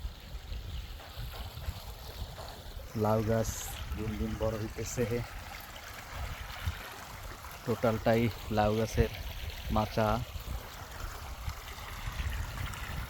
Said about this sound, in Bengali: এক পুকুরের পানি আর এক পুকুরে দেওয়া হইতেছে।